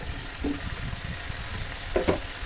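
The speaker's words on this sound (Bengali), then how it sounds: "আমি এখানে ভালো করে ধুয়ে পরিষ্কার করে রাখা চিকেনগুলো অ্যাড করছি সেই সাথে আমি এখানে কয়েকটা আলু দিয়ে দেবো" Chicken pieces and potatoes frying in a pan for a chicken curry, giving a steady, soft hissing sizzle throughout, broken by a few brief clinks of stirring near the start and toward the end.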